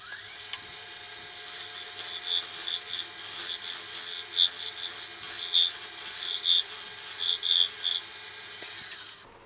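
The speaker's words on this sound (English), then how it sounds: "let's see how the scraper does" A negative rake scraper cuts a wooden bowl during woodturning, giving a run of rhythmic, raspy scraping strokes that rise and fall for several seconds after a brief knock, heard close with no talking.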